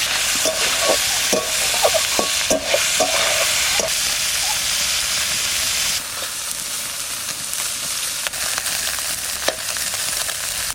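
Large koi fish frying in hot oil with tempering spices including radhuni, a loud dense sizzle throughout with bursts of crackling and spatter in the first half, close to the pan and with no talking.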